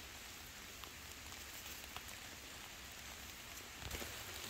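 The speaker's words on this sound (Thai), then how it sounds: "อันฝนตกแหละพี่น้อง" Steady rain falls on surfaces outdoors during hot-season mushroom gathering, a dense even hiss with scattered drop taps throughout and a slightly heavier patch near the end, with no talking.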